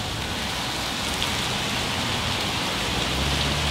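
Steady rain pours down outdoors, a dense, even hiss of drops hitting surfaces that holds constant throughout without pause.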